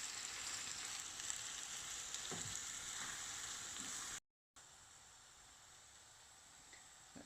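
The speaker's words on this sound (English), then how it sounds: "The oil is now hot, so we add the onions." Onions sizzle in hot oil for Bombay chicken biryani, a steady dense frying hiss that runs continuously, broken by one brief gap, close and fairly quiet.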